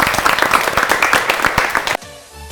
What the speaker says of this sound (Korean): 소박하게 박수 치면서 마무리하도록 하겠습니다